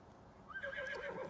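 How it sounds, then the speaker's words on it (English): A horse in the survival video game Icarus gives a short, rising whinny, close and clear, with no talking over it. "Hop on the horse."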